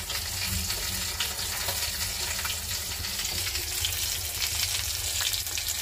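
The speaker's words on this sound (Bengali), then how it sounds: "এই যে মাছ ভাজতে দিয়ে দিচ্ছি, আমার ওই মাছ ভাজতেছি" Fish sizzling steadily in a pan of hot oil, a dense continuous crackle that stays close and even throughout with no talking.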